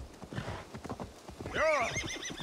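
Hooves clop rhythmically as a horse in the video game Assassin's Creed moves, and partway through it gives a loud, wavering neigh that carries to the end.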